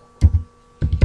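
Two short bursts of keystrokes on a computer keyboard as a web address is typed into a browser, a quick cluster of taps, a pause, then another brief flurry, close and fairly clear.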